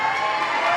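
Team supporters cheer at a youth bouldering final in Kaunas, a loud burst of crowd shouting and whooping that fills the short moment without a break.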